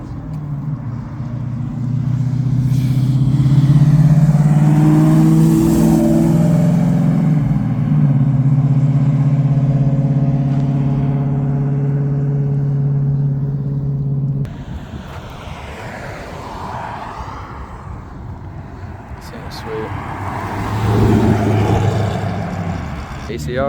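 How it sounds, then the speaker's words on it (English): A super clean Chevrolet Camaro at a car show rumbles and revs loudly as it drives past, its engine note swelling and fading over several seconds, with crowd noise around. "Got the super clean Camaro coming this way."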